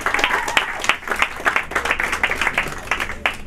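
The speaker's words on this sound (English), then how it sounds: "Give him a little love, a little clap," An audience claps in a loose, uneven patter of individual hand claps, fairly close and moderately loud, with no talking over it.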